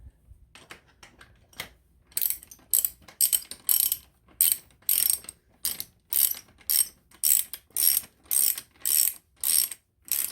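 A ratchet wrench tightens a suspension bolt on a 1997 Polaris Indy 500 snowmobile, giving a close, loud, rhythmic clicking in a steady series of sharp pawl ratchets after a few hesitant first clicks.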